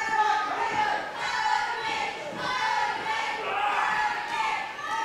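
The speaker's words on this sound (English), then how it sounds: "Even our crowd are bloodthirsty. They want more." A wrestling crowd at a championship show cheers and roars in steady swelling waves, loud and continuous, with an announcer talking over it.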